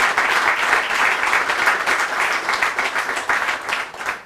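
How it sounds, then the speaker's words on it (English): Steady, dense applause from a large crowd celebrating a women's basketball team that just won the CIAA championship, sustained and fairly loud throughout with no speech over it. "let's give a great round of applause"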